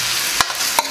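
Pigtail pieces sear in a pot for Trinidad pelau, a steady loud sizzle broken by two sharp clanks of a spoon stirring against the pot.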